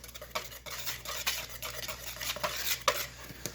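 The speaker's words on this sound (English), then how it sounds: "now we're going to mix this together" Chocolate cookie ingredients are mixed in a bowl with a utensil, giving close, quiet, irregular scraping and clinking strokes with no talk.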